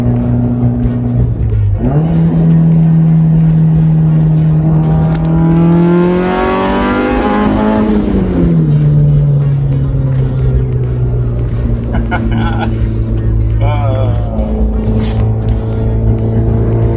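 A big-turbo Audi TT engine roars loudly up close, its pitch climbing under boost and then falling away, with a rough, uneven edge to the drone as ignition breaks up around 24 psi.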